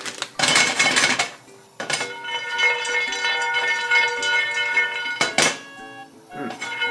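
Mixed nuts dry-roasted in a frying pan over high heat, rattling and clattering in bursts as the pan is shaken, with metallic clinks and a ringing hum between the tosses.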